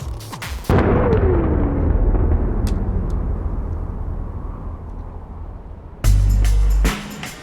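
Two controlled detonations of explosives at a military air base in Afghanistan: a sudden loud boom that rolls and rumbles for several seconds as it decays, then a second heavy blast near the end.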